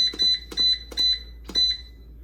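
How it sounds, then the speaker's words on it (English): An air fryer emits four sharp, high-pitched electronic beeps in quick succession, each held briefly, clear and close with silence between. "beep, beep, beep, beep, beep"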